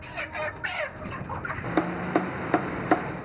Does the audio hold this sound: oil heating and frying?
no